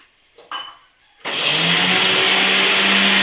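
A brief clatter, then a mixer grinder grinding chutney roars into a loud, steady whirring hum that runs on before cutting off abruptly.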